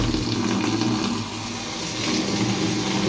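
Water gushes steadily at good pressure into a deep kitchen sink, a continuous loud rushing and splashing close by, with no voices.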